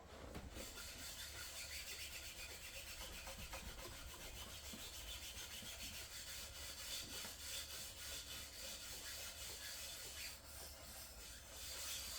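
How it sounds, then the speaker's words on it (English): Wire wool rubs steadily against a mitre saw part during servicing, making a continuous soft scratchy hiss with rhythmic strokes, close up and quiet, with no voices. "Am I supposed to use wire wool on this?"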